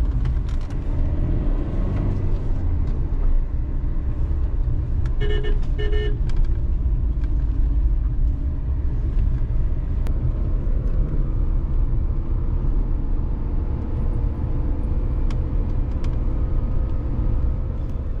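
A car overtakes on a road, heard from inside as a loud, steady engine and road rumble with a brief horn toot partway through.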